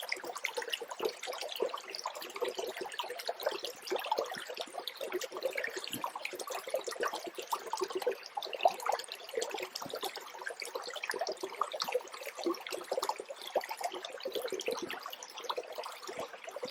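A flowing brook at an off-grid homestead, a continuous soft babbling and trickling of water heard close and steady throughout, with no voices.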